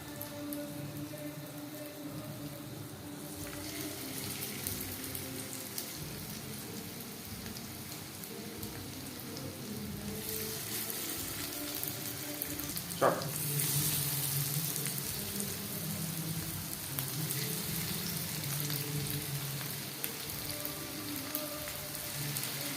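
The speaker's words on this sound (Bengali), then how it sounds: "বেশ খানিকটা রিফাইন্ড অয়েল গরম করে নিয়েছি এবার দিয়ে দেব ম্যারিনেট করে রাখা চিকেন" Marinated chicken fries in plenty of hot refined oil in a pan over a high flame. A steady, crackling sizzle grows louder partway through, with one brief metallic clink, and there is no talk.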